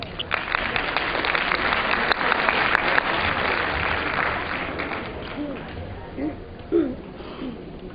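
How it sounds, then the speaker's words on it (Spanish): Audience applause at an international education congress, a dense wash of clapping filling most of the stretch and then thinning, with a few voices rising near the end. "Un fuerte aplauso, por favor."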